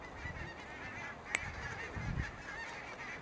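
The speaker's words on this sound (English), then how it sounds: "There's the geese" Faint geese honk in the distance over a steady background hiss, with a short sharp click midway.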